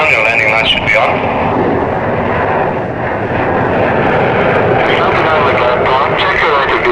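A fixed-wing aircraft drones loud and continuous on landing approach about six miles from touchdown, its engine roar steady throughout while a controller's voice talks over it.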